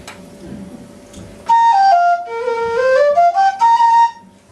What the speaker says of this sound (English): I often play that on the whistle